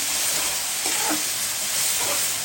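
Bay leaf, cardamom, cloves and cinnamon fry in hot oil for sada pulao, producing a loud, close, continuous hiss and sizzle with faint stirring scrapes and no voices.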